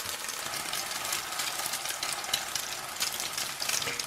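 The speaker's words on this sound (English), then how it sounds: "And we'll just fry them until they're cooked through on both sides." Soft, steady sizzling of ricotta pancake batter frying in coconut oil in a hot pan, quiet crackles and pops over a low background hum, with no talking.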